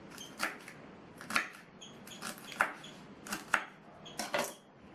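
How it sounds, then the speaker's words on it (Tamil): A knife chops tough amaranth (thandu keerai) stems on a board in a series of about six crisp, separate cuts spread at an irregular pace, fairly close and moderately loud, with no talk. "இதை கட் பண்ணிவிட்டு தனியாக எடுத்து வச்சுட்டு இதை கட் பண்ணிக்கலாம்."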